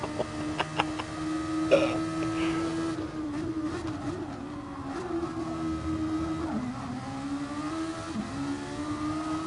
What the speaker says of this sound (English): These cars are so much fun to watch, and they're so fast.